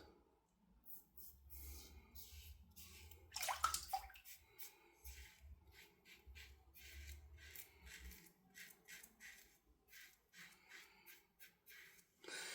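A safety razor is rinsed under running water in bursts, each gush splashing close by between short quiet gaps, with one louder rattling scrape partway through.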